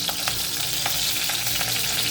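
Curry leaves fry in two ladles of hot oil, a close, steady crackling sizzle with quick spattering pops throughout.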